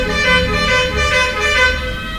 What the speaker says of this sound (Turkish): Kamyonun kornasına...